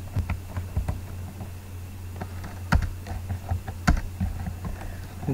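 Computer keyboard keys tapped in short uneven bursts while code is typed, close and fairly quiet over a steady low hum, with a few sharper louder strokes.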